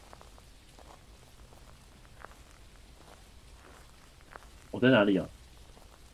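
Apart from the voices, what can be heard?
rain in the video game Phasmophobia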